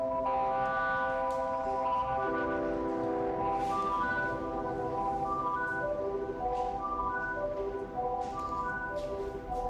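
Cheap organ patch on a synthesizer, pushed through distortion, holding sustained buzzy chords that shift pitch every couple of seconds, steady and fairly quiet with no talking.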